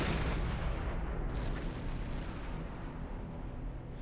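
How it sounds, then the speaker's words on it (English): A burning ship in Silent Hunter 5 gives off a sustained, heavy explosive roar that stays loud and broad throughout before easing off slightly, with no talk. "how many times can a ship explode before it's not a ship anymore? Whole thing's on fire."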